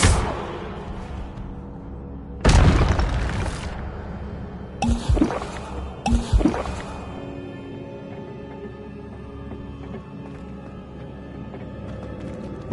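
The Incendio fire spell in Hogwarts Legacy bursts out in several loud blasts with crackling tails, one after another, fading into a low rumbling background.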